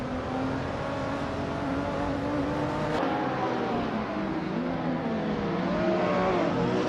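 Race cars, including a 2006 TVR, pull away at the start of a race at Chang Track, a steady chorus of engines revving and whining as they accelerate, near and continuous throughout.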